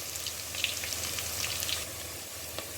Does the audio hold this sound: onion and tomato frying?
yes